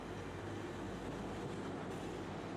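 A stainless steel Budd passenger rail car rolling along the tracks, a constant dense rumble of wheels and car body from inside, loud and unbroken with no talk.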